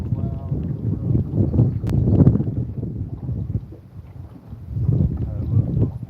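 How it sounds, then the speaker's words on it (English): A motorboat comes in past an anglers' spot on Fishing Creek during a catfishing outing, its low rumbling engine swelling and fading under wind buffeting on the microphone, with people talking nearby. "Got a boat coming in"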